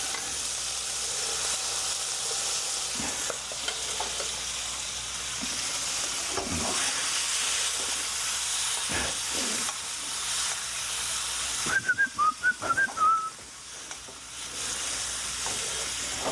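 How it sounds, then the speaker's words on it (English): Meat stir-frying in a hot wok with oil, a steady loud sizzle and hiss running throughout, with a few sharp clatters of tossing and stirring and a brief burst of clinking near the end. "we're going to stir fry until the meat's nearly done"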